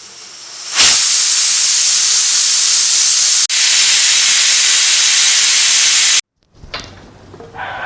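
A pressure cooker holding washed raw rice and moong dal in water for pepper pongal gives a loud, steady steam hiss for about five seconds with a momentary break. It then cuts off abruptly, leaving quieter kitchen noises.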